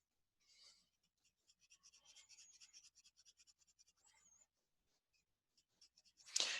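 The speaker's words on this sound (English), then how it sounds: "using some of my colored pencil" Colored pencil scribbling on paper while detailing a miniature diorama figure, a quiet run of quick scratchy strokes in short bursts with brief pauses, then a louder rub at the end.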